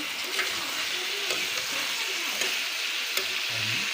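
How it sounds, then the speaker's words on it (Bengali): Thick pumpkin slices fry in oil in a wok, giving a steady, even sizzle with a few soft crackles and no one talking. "তো মিষ্টি কুমড়া ভাজিগুলো দিয়ে দিছি কড়াইয়ের উপরে"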